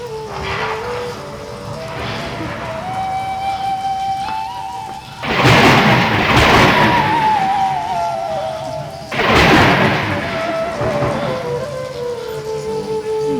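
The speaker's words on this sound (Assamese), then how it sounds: "শিল বৰষুণ প্ৰকৃতিৰ যেন ভীষণ দুৰ্যোগ" Stage thunderstorm effect in a folk theatre play: continuous rain hiss with two loud rolling thunderclaps, while a sustained musical tone drifts underneath.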